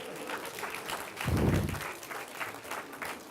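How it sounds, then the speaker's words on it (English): An audience applauds at a live mind-reading style stage show, a continuous wash of clapping that swells briefly in the middle with a low rumble before settling back. "that was applause for me"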